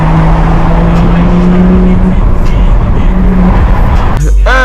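A BMW F30 335i with the N55 engine drives through the city, its exhaust giving a steady low rumble with soft burbling pops near the end.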